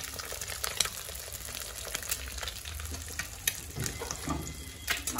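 Eggs sizzle and crackle steadily in plenty of hot oil in a home kitchen pan, a close, continuous frying hiss with small pops throughout and no talking.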